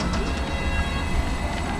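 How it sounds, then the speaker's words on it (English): A London Underground District Line train at Hammersmith gives a steady, dense rumble and rail roar throughout, close and loud, with no talking. "This is a District Line train to Ealing Broadway."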